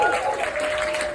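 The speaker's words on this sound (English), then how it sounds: "I will give him a round of applause." Comedy club crowd at Q-Bus in Leiden claps in a short, scattered burst of applause, fairly soft, with a faint tone running underneath.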